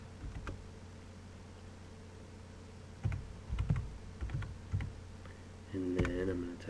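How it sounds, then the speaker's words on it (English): Soft, scattered keystrokes on a computer keyboard come in short clusters over a low steady hum, with a brief voice near the end. "And then I'm going to type in my password that I saved."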